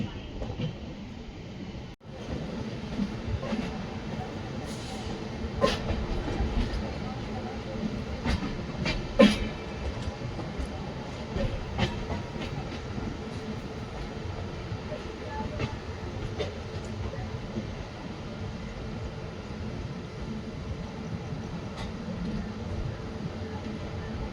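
Superfast express train with LHB coaches running on the Bengaluru–Hubballi line, a steady loud rumble of wheels on rails with faint rhythmic clicks throughout, heard from inside the coach.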